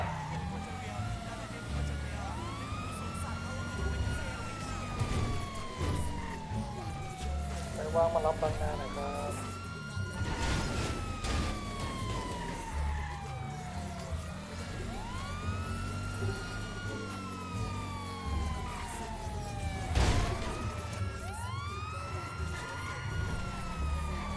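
Police car sirens wail in GTA, several overlapping rising and falling sweeps along with engine and traffic noise, loud and sustained while people talk over them.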